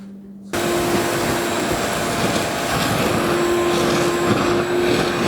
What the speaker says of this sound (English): we'll just vacuum straight into the dust deputy